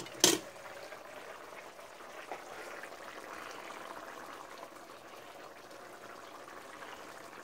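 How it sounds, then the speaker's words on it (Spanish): Carne guisada with cabbage bubbles in a pot, a soft, steady simmering burble after a brief sharp knock at the start. "Miren qué rico se ve esto, hirviendo."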